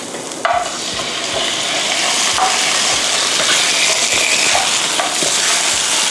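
Pork ribs stir-fried with chili and garlic sizzle loudly and steadily in hot oil, with periodic scraping and stirring clanks of a utensil in the pan, close up and without talk.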